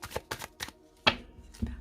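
Tarot cards are cut and shuffled in a few quick, crisp slaps and riffles, close and fairly sharp, with short pauses between them.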